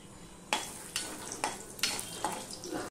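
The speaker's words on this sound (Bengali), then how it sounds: "শুকনো লঙ্কা দিয়ে দিচ্ছি, 2টো ফাটিয়ে দিয়ে দিচ্ছি, আর দিয়ে দিচ্ছি 1/2 চামচের মতন জিরে" Dried red chillies, broken in two, and half a spoon of cumin seeds dropped into hot oil for a vegetarian ash gourd dish, a steady close sizzle with four or five sharp spatter bursts as the spices are stirred, with no speech.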